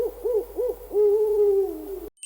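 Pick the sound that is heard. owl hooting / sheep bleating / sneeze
owl hooting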